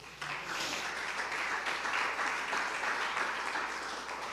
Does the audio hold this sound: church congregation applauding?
yes